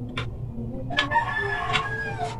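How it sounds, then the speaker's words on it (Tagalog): A rooster crows in a household setting, a mid-distance call over steady low background noise with a few sharp clucking accents. "Ayan, may manok."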